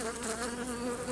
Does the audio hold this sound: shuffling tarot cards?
no